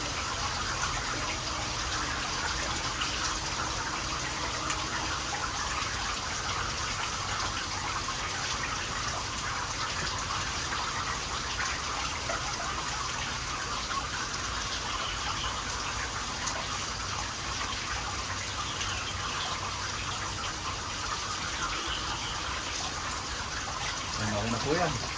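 Steady rain falls on a backyard vegetable garden while planting goes on, a constant even hiss of water with no breaks across the whole stretch.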